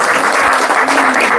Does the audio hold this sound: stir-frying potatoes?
no